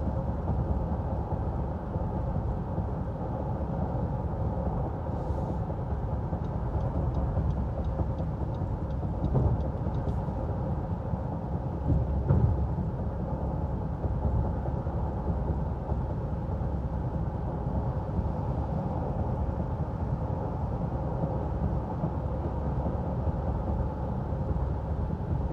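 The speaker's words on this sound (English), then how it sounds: "I will be driving at 65 miles per hour in both lanes, and we'll give you a little bit of a road noise test." Steady low-frequency road and tire rumble fills the cabin of a 2023 Honda Ridgeline Black Edition pickup cruising at 65 mph, a constant broadband drone with faint wind hiss above it and no talking.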